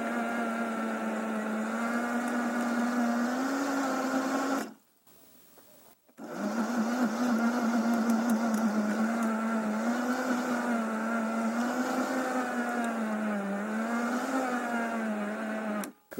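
Parkside PEBH 1500 B2 electric tiller, a 1500 W, 40 cm garden machine, digging soil with a steady high-pitched motor whine that cuts out briefly, then resumes and runs loud and constant.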